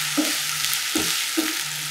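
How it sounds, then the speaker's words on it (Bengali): Onions fry lightly in a pan, a constant broad sizzle with three soft stirring scrapes spaced about half a second apart, close and steady, no talk. "পেঁয়াজটা আমরা একটু হালকা ভেজে নেব।"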